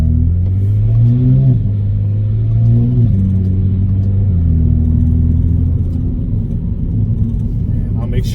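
A car pulls hard through fourth gear, its engine droning loud and close with rising pitch steps as revs climb, the rumble steady and unbroken throughout.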